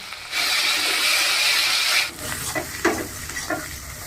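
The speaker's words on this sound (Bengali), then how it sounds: "মশলাটা ভাজা হয়ে গেছে" A spice paste of tomato and onion paste, turmeric, salt and dried chilli sizzles loudly in a pan for about two seconds, then drops to a quieter crackle broken by scraping stirs.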